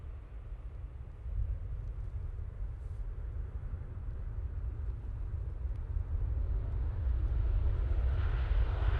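A TUI passenger airplane at Manchester Airport gives a steady, loud engine rumble that swells gradually and grows stronger toward the end, with no voices over it.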